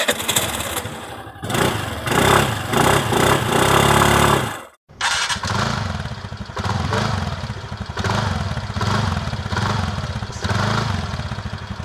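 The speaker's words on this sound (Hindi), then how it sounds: "तो यहाँ पे एंटोर्क का साउंड ज़्यादा अच्छा है कम्पेयर टू बर्गमैन।" Two 125cc scooters, a Suzuki Burgman Street 125 and a TVS NTorq 125, rev one after the other, each exhaust giving a loud, close buzzing note with repeated throttle blips, separated by a brief silence.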